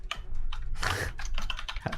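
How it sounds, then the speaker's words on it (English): Fast typing on a computer keyboard picked up by an open microphone during a live stream: dense, rapid key clatter, close and fairly quiet, with no speech over it. "you gotta mute yourself when you're typing"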